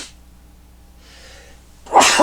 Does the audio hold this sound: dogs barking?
no